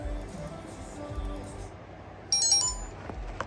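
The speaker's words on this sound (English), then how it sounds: "My phone is going off." A mobile phone ringtone chiming briefly in a room, a short bright electronic melody rising over faint background hum and quiet room noise.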